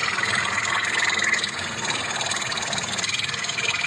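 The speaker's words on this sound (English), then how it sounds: "Noisy boiler." A noisy commercial gas boiler runs with a steady, loud broadband roar and low rumble, its combustion noise continuous and unbroken throughout.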